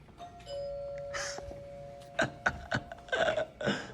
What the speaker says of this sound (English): I have a doorbell. Actually, let me show y'all.